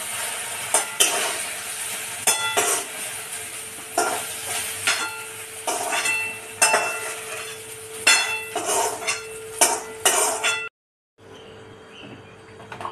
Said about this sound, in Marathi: आता गॅस स्लो करू आपण आणि भेंडी यात काढून घेऊया